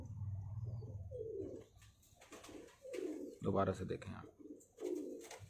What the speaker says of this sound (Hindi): ये कबूतर है, ये मेरे उस्ताद का फेवरेट कबूतर है, टेडी कबूतर है।